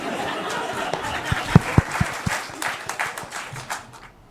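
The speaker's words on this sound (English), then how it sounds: "Can we get that applause, please?" Scattered applause rises on a talk show, a few loud close claps followed by looser clapping that tapers off, mixed with chuckles and crowd chatter.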